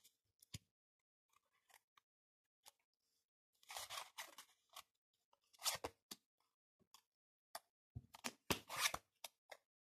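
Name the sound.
tarot cards being turned over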